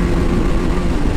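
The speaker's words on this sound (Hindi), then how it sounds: "ओ भाई पॉप कर रही है, थर्ड गियर" A KTM Duke 250 or RS 200 motorcycle in third gear drones with a steady, heavy engine roar and faint exhaust pops mixed in, continuous and close.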